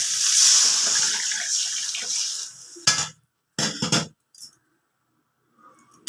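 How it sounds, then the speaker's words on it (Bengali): Water poured into a cooking pot of pumpkin and radish, a steady rushing pour lasting about three seconds, followed by a few short splashes and clinks before going quiet. "এবার আমি জল দিয়ে দিচ্ছি।"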